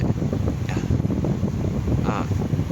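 A fan blowing air indoors for cooling gives a steady, fairly loud broadband whoosh that holds without a break for the whole stretch, with no talk over it.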